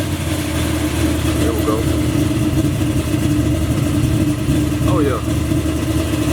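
Chevy engine idling steadily to warm up its carburetor, a loud, continuous low rumble close by with someone speaking briefly over it.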